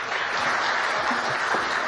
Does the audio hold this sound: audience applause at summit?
yes